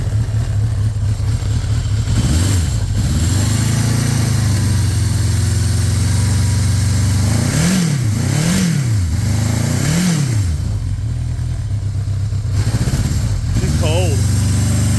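A 1982 Yamaha XJ1100 motorcycle with an 1100cc four-cylinder engine runs close by at a steady, throaty idle. Several quick throttle blips rise and fall in pitch, including a cluster of revs in the middle.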